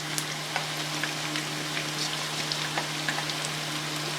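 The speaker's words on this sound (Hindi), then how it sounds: "और इसको थोड़ा सा हम भूनेंगे" Chutney and crushed ginger-garlic paste frying in a pan for a Sindhi curry, a continuous close sizzle with small sputtering pops and a low steady hum underneath, no talking.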